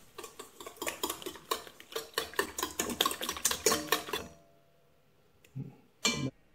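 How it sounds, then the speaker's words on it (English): A wire whisk beats egg whites and sugar in a mixing bowl for a Christmas cake, a quick run of close metallic clinks and scrapes that stops abruptly, followed by near-silence and a couple of isolated knocks. "With a whisk we give it a pre-whisk."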